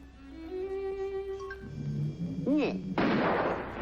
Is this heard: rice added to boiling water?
no